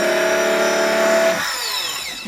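A dressmaker's electric knife buzzes steadily and loudly for over a second, then its motor winds down with a descending whine as the blade slices through layered fabric on a cutting table.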